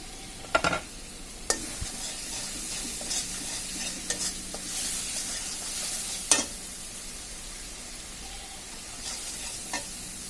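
Ginger-garlic paste and ground spices frying and being stirred in a pan, a steady sizzle with several sharp scrapes of a spoon against the metal, no voices.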